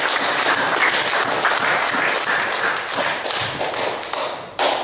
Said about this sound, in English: Can we give a clap of praise to God?